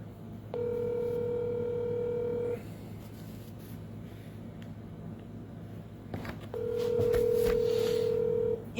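Telephone dialing tones during a cold call: a sustained electronic tone lasting about two seconds, a gap with low background hum, then a second long tone that comes in louder.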